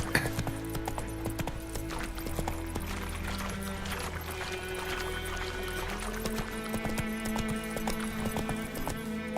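Roach the horse trots along in The Witcher 3, steady rhythmic hoofbeats clip-clopping up close over an ambient game music bed.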